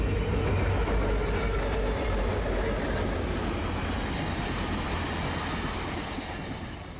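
A southbound Rail Runner passenger commuter train rumbles past close by in Albuquerque, New Mexico, wheels clacking over the rails, then the noise starts to fade toward the end.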